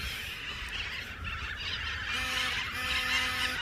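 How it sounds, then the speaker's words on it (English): Cockatoos call outdoors during a metal-detecting dig, giving harsh, honking screeches in short repeated bursts over a steady background hiss. "God, those cockies are loud."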